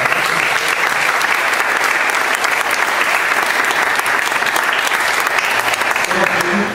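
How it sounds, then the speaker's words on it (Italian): Steady general applause from a seated audience at a foundation grant presentation, dense and even clapping filling the room at constant loudness throughout. "io farei un applauso generale anche per loro."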